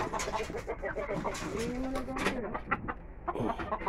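Hen clucking near her nest of eggs in a small backyard, with short, uneven bird calls from close by. People talk over the clucking throughout.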